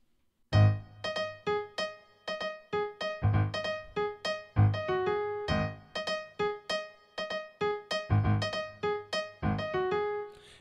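Piano plays a song, repeated struck chords with a bright rhythmic pattern of notes that ring and decay between hits, close and clear with no voice.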